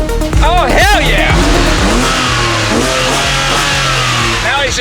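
A Porsche 911 engine starts and revs hard, loud and close, with sharp throttle blips, rising and falling sweeps and a brief squeal-like edge, while people shout and talk over it.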